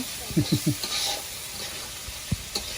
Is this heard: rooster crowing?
no